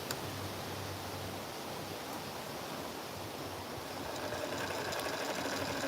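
A sewing machine runs steadily while top stitching a fabric scissor holder, its soft continuous whir close and even for several seconds with no speech.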